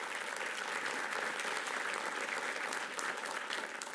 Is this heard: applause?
yes